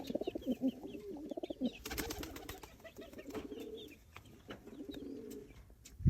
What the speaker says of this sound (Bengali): নিচে কিছু কবুতর নামছেও, দেন ওই যে ডাকাডাকি করতেছে।